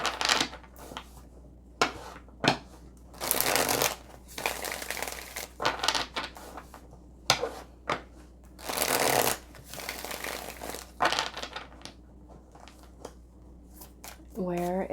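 Tarot cards are shuffled by hand in repeated close, crisp riffling bursts separated by short pauses, with a brief voice near the end.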